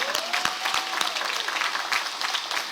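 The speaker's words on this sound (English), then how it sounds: "Give yourselves a round of applause." Audience applause at a high school ribbon cutting ceremony, steady dense clapping from a crowd throughout, fairly close, with a faint tone sliding underneath.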